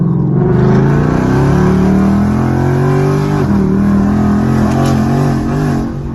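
A Ford Mustang GT with a 10-speed gearbox revs loudly up close, its deep engine note rising and falling through several swells and holding a raw, continuous roar for about six seconds.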